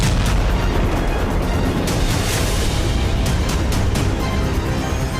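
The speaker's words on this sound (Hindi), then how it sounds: "जोरदार विस्फोट हुआ" Loud explosion of a drone struck by helicopter gunfire in wartime, heard as a dense, sustained roar of blast and rumble with a few sharper bursts and no voices.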